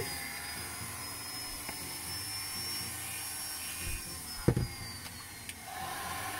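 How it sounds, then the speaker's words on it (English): A Dremel rotary tool drills holes through a prop fire axe, producing a faint, thin high whine that holds steady. A short clunk and a rattle of handling break in near the end, with no talking. "let the Dremel do its work, you don't have to force it through"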